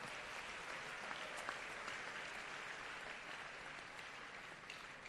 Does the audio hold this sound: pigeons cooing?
no